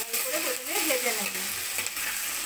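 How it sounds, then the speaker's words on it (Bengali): Potato pieces frying in hot oil in a pan after spice tempering, a soft steady sizzle close up, with a brief voice passing over it. "এর মধ্যে আলু দিয়ে আমি আলুটাকে লাল লাল করে প্রথমে ভেজে নেব।"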